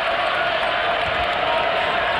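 Crowd in a college basketball arena at an Indiana at Iowa game, a steady broad roar of cheering that holds loud and even throughout with no distinct breaks.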